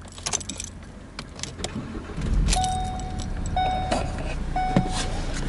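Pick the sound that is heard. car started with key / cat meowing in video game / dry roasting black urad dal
car started with key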